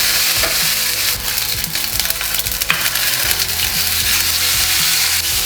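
Beef pieces for a beef bourguignon searing in a very hot pan, a loud, dense, continuous sizzle and crackle with scraping stirs and clinks of utensils, close up and with no talking.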